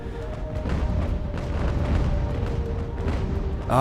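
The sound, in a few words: naval cannon fire hitting a ship in Ultimate Admiral: Age of Sail video game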